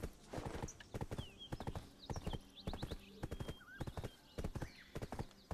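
A galloping horse in the video game Black Desert, quick rhythmic hoofbeats close by with a few high whistling game effects mixed in, no talk over it.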